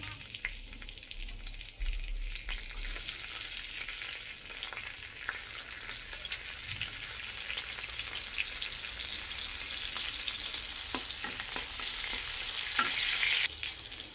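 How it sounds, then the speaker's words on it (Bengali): Green chillies fry in ghee in a wok, giving a steady, close hiss of sizzling oil with occasional stirring scrapes throughout and no voices. "এবার কাঁচা লঙ্কাটা ভালো করে ভাজা হয়ে গেছে"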